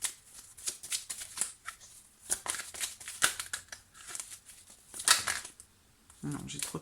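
Tarot cards are shuffled and handled in crisp, irregular bursts of riffling, flicking and sliding, fairly close, with brief pauses between handfuls and a soft voice faintly in the background.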